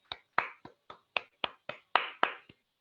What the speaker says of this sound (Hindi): तो चलिए तालियों के साथ उनका स्वागत करते हैं